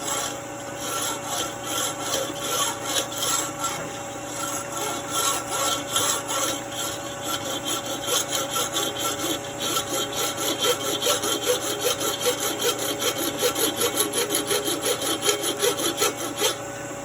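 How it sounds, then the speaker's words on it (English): A hand saw cuts back and forth steadily through a small shift cable barrel held at an angle, a close rhythmic rasping stroke that runs without pause and grows slightly louder. "You just kind of angle it inwards and you saw it."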